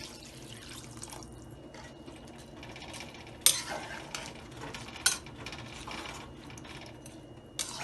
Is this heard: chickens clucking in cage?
no